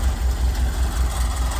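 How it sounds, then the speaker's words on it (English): A car with a brand new exhaust idles nearby, giving a steady low engine rumble with a faint metallic rattle running through it, no voices. "I know it sounds like that exhaust is rattling, but it's a brand new exhaust."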